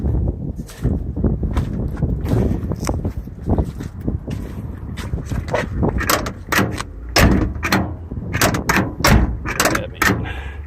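Door work on a 1977 Lincoln Continental Mark V at a junkyard, with a long heavy car door banging and clunking repeatedly over steady outdoor wind and handling noise, loud and close.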